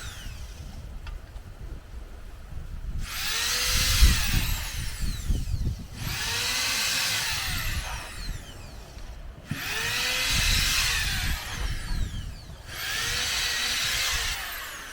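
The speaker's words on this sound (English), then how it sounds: "I pre-drill the holes on the other side, so I know where to put the screws." A power drill pre-drills screw holes in wood in four separate bursts of a few seconds each, with short pauses between, close by, at a shipping container beach house in the Caribbean.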